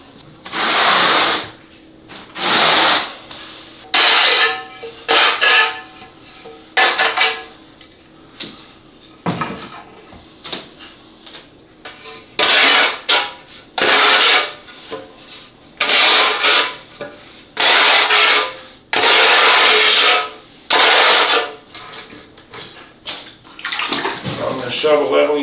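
Plastic tile leveling spacers are spun and tightened one after another during a bathroom tiling job, producing loud, close, repeated ratcheting whirs in bursts of about a second, separated by short pauses and quieter handling noise.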